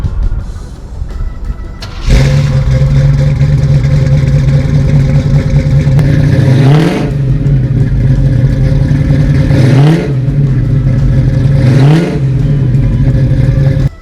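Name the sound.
1972 Chevy Nova LS3 engine starting and revving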